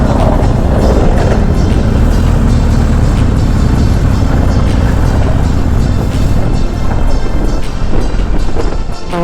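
Motorbikes ride out on a weekend trip from Kolkata, a steady, loud roar of engines and wind buffeting the microphone that stays unbroken throughout, with no talking.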